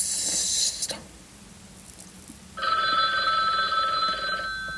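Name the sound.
phone ringing sound in a video game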